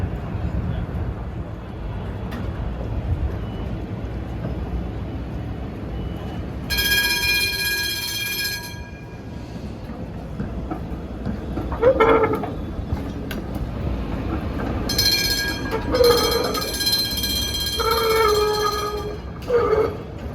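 A historic Cincinnati Street Railway trolley car runs on city rails, a steady mid-distance rumble with bright metallic squeals and ringing tones rising at intervals, while voices talk over it.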